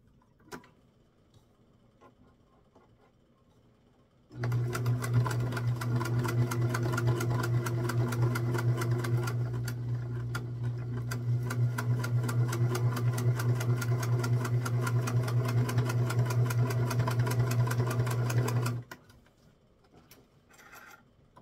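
A sewing machine runs in one long steady burst of about fourteen seconds, stitching a jar-lid piece onto the top of a rectangle for a quilt block, with a rapid needle rhythm and a hum. Brief quiet comes before and after.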